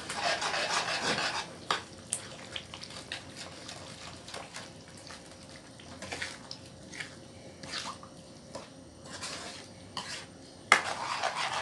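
A spoon scrapes and rubs through sautéed shrimp paste with pork in a pan, giving irregular rasping strokes and soft clinks that rise and fall, close and fairly quiet, with no talk.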